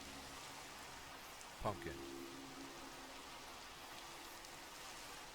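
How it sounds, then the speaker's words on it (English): Rain falls in the Minecraft game world as a soft, continuous hiss, with one short spoken word partway through. "But it's raining."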